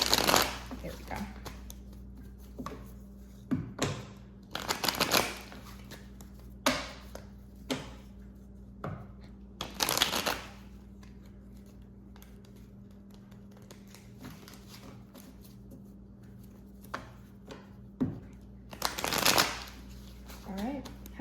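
A tarot deck is shuffled in short, crisp riffling bursts spread across a quiet stretch, close and clear, with soft handling sounds between them.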